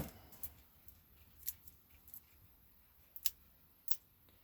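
Scissors snip through wallpaper being cut to cover a junk journal book, a handful of sharp, quiet clicks spaced irregularly against a near-silent room.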